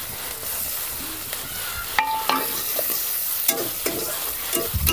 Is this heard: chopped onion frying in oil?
yes